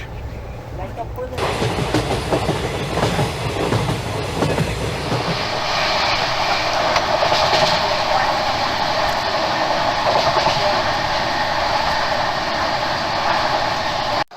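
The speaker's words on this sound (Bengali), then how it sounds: "আমাদের উত্তরবঙ্গ এক্সপ্রেস, মানে যাচ্ছি দার্জিলিং" The Uttar Banga Express running toward Darjeeling, heard from on board as a loud, steady rumble and rattle of the moving carriage, continuous throughout.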